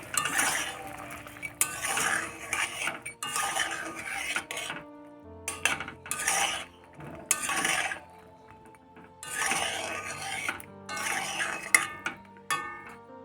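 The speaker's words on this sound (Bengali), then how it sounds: "এবার আমি ভেজে রাখা মিষ্টিগুলো দিয়ে দেবো।" Fried semolina sweets going into a pan of syrup, with close metallic clinks and scrapes of a spoon against the pan in short bursts separated by brief quiet gaps.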